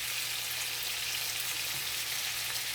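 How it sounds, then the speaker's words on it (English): A T-bone steak fries slowly in a pan with garlic and butter, giving a steady, even sizzle and crackle that holds throughout, close and moderately loud, with no talking. "we just letting this here fry up, look just like it's frying, slow"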